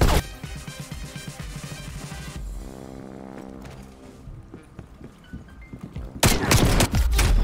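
Shotgun blasts in the Call of Duty Cold War video game, loud and sharp, with a burst of heavy booming shots near the end amid other game sounds.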